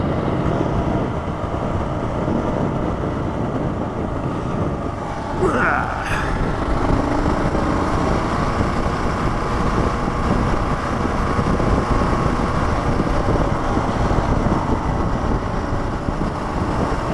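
A Kawasaki KLR650 motorcycle cruises on River Road near New Braunfels, Texas, its engine droning in a steady close rumble mixed with wind noise, with a brief higher whine partway through.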